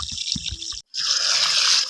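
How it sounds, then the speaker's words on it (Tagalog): Water pours and trickles steadily while eggplant plants are watered on a highland farm, a close, continuous splashing with one brief pause before the flow resumes. "Ay dito naman po tayo magdidilig sa talong."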